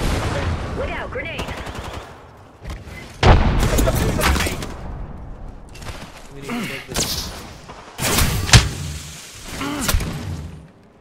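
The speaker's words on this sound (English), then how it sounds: "launching the bomb. Look out, grenade." Grenade and bomb blasts in a squad-based shooter game: several sharp, loud booms and bursts of gunfire spaced across the scene, with voice lines talking between and over the detonations.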